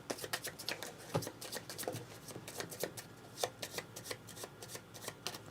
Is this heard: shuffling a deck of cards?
yes